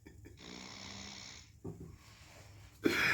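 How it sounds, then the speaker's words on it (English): A man snores loudly and close by in rough, rattling breaths, with three snores over a few seconds, the last one sharp and snorting. "That man snores in the rhythm."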